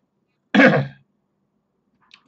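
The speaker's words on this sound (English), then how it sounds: "I apologise for this bloody annoying cough." A single short, harsh cough from one person bursts out close to the mic, followed by near silence and a faint tiny click.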